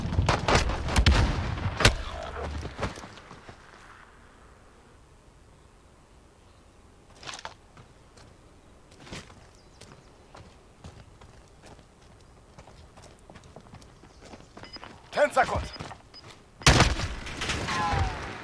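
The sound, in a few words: burst gun gunfire in a video game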